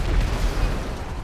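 An explosion in the video game GTA 5, where police cars are being blown up, heard as a dense, continuous low rumbling roar that fills the whole brief moment.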